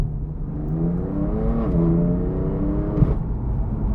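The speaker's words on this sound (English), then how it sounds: "We get a full titanium exhaust system on the DTM, and it is loud." A BMW M4 DTM Champion Edition's loud, throaty full titanium exhaust revs up and holds high, with rising engine harmonics and a sharp crackle near the end.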